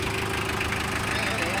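A Japanese Kubota L2802 diesel tractor fitted with a tiller idles nearby, a steady rumbling chug with rough knocking texture, heard with someone talking over it.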